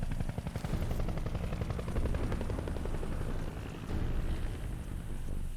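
An enemy helicopter in the video game Crysis 3 drones with a steady, low rotor thump and whine, loud and continuous throughout, with no voices over it.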